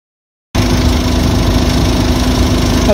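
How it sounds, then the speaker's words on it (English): A car engine idles steadily close by with the air conditioning on while a newly fitted fan hums continuously underneath, a constant mechanical drone after a brief silence. "I've got the engine running with the aircon switched on."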